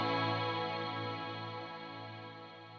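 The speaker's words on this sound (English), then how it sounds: "Now for reverb, I use the TAL Reverb 4" A sustained ambient synth tone drenched in TAL Reverb 4 reverb, with layered harmonics holding steady and slowly fading in a long, smooth wash, no voices present.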